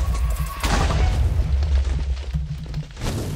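A loud, sustained explosive blast in Minecraft, a bone explosion with a deep rumbling boom that rolls on for a few seconds, ending in a crackling burst.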